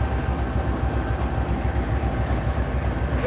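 Norfolk Southern freight locomotives roll into a rail yard, led by an older EMD unit, with a loud steady rumbling diesel drone and rolling rail noise close by, continuous and without speech.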